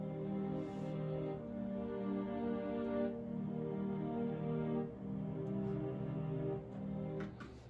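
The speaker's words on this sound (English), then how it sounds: "I just did the bass chords of the melody and put that under the string section sound" A sustained synth string section layered over bass chords, playing slow held chords that shift every couple of seconds, soft and smooth with no talking.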